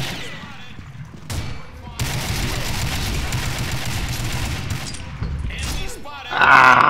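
Bursts of AK-103 Gold automatic fire in the shooter game Combat Arms, a sustained loud fusillade with a break and renewed shots, mixed with other game effects and a voice.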